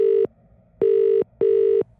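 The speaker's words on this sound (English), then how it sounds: "In a frantic rush, I fumbled for my phone and dialed the local police helpline." A phone line tone sounds as a call is placed to a local police helpline: three loud, steady beeps at even intervals with short silences between them.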